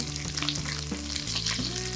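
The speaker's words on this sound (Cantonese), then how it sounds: "另外一面都煎好之後呢，就可以反過嚟再煎一煎呢一面" Steady crackling sizzle of pork ribs frying in hot oil in a pan, close and continuous with no talking.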